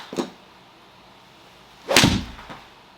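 A sharp crack of a Titleist golf ball struck by a club, followed by a swooshing whoosh, then another louder strike and swish about two seconds later.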